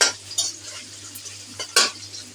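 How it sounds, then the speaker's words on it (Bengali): Meat and onion cook in a pot with a faint, steady sizzle, punctuated by a few sharp metal scrapes and clinks of a spoon stirring against the pot. "যে মাংস কষাইতেছি।"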